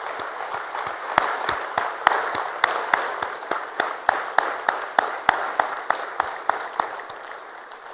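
An audience at the African Development Bank 2024 Annual Meetings gives a standing round of applause for the President. Sharp individual claps stand out over a softer wash of clapping, which slowly thins toward the end.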